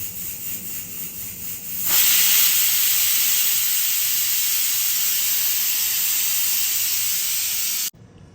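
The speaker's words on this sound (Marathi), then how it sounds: "मी पहिला याच्यामध्ये कुकरमध्ये शिट्टी घेते" A loud, steady hiss of steam bursts from a pressure cooker cooking chickpeas after a quieter stretch, whistling continuously for several seconds before cutting off abruptly.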